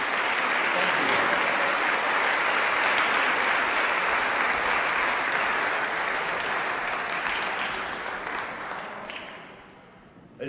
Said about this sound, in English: And let's give Lisa another big round of applause.